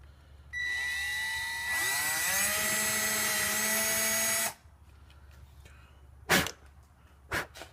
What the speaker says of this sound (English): I'll put my screwdriver bit in, and then I'll land that screw